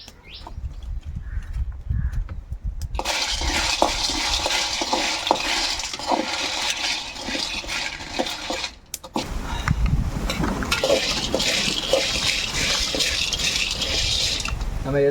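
Ingredients dry-roasting in a pan over moderate heat while being stirred constantly, loud continuous scraping and rattling with a rough grinding texture, briefly pausing near the middle before resuming.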